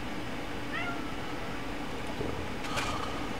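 A pet cat meows indoors, a couple of short, fairly soft calls over a steady background hum, with no talking.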